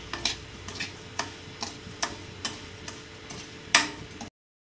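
Semolina roasting in ghee over low heat in a pan for rava halwa, giving a soft steady sizzle with regular light scraping ticks from stirring, one sharper scrape near the end, no voices.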